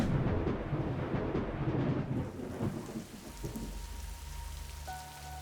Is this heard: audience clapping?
no